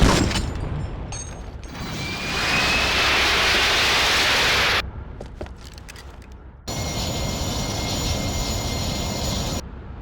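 Jet engine roar from an aircraft in 007: Agent Under Fire, set on a flight deck, building to a loud sustained whine then cutting to a quieter stretch before a steady roar returns.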